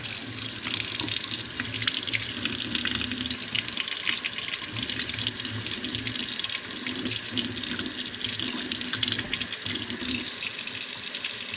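Water running steadily from a tap to rinse an old iron artifact found metal detecting, a constant close splashing hiss throughout with no talk.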